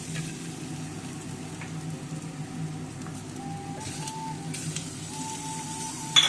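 Onions sautéing to a golden brown in a pan for a chickpea (pori kadalai) masala curry, giving a steady, moderate sizzle with a few faint scrapes throughout, no voices.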